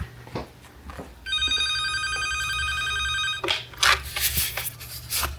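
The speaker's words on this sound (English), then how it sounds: "The phone's ringing." An electronic phone ring trills steadily for a couple of seconds in a standard room at Disney's Beach Club Resort, followed by rustling and handling noises.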